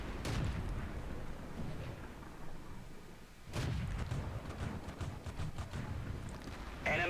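Heavy booms from a Sexton tank's gun in a video game, a big blast near the start and another midway, each rolling into a rumbling tail over low engine noise, with no one speaking.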